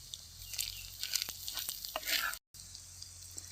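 Vegetable fried rice being stirred in a pan, village style, giving a soft, steady sizzle with light scraping and stirring scrapes, fairly quiet and close, with a brief gap near the end.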